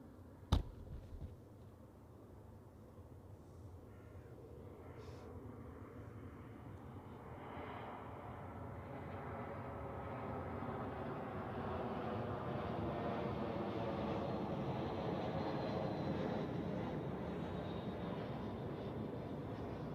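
A fixed-wing airliner landing on runway 14 at Zurich Airport, its engine roar swelling gradually from distant to loud and broad over the clip, with a brief click near the start.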